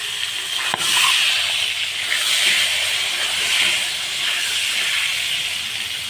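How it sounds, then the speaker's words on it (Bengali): Eggs frying one by one in hot oil in a pan for an egg bhuna dish: a steady, close, broadband sizzle and hiss that holds evenly throughout, with a brief sharp tick near the start. "এভাবে সবগুলো ডিম ভেজে নেব।"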